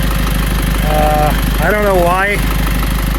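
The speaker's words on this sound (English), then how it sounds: "Unfortunately, this engine's got to come back out." A rebuilt 2005 NPR truck engine with excessive blow-by runs at a steady idle, a constant low rumble and hiss beneath someone talking nearby.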